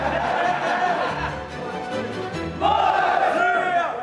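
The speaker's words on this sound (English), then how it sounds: "We do like a bit of a pre-game chant." A Nitro Circus team's loud pre-game group chant, a crowd of voices shouting together in rising waves with laughter mixed in, swelling louder toward the end.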